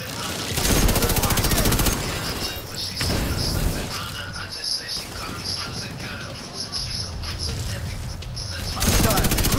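Gunfire in The Division 2 crackles in heavy bursts at the start and end, with quieter scattered shots and a chirping insect-like ambience between, and a voice speaking briefly over the action.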